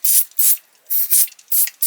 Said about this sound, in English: we're just going to spray the inside all in here